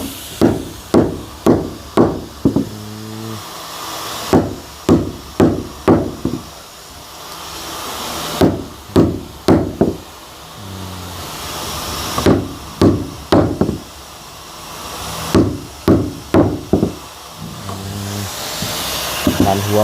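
A hammer strikes repeatedly while a door frame is installed, loud sharp knocks in quick bursts of four to six blows separated by short pauses, close by, with brief talk in between.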